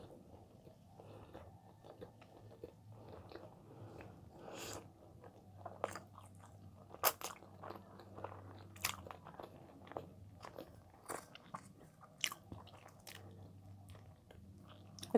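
Close, quiet chewing and soft crunching of cheesy bakery bread, with irregular bites and mouth sounds over a faint background hum.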